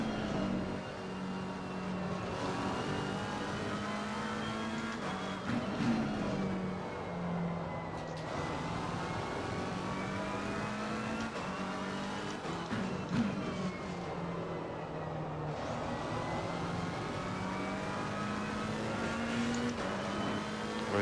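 McLaren race car in Assetto Corsa Competizione, a steady, droning engine note that rises and falls with shifts and throttle, held close and continuous throughout.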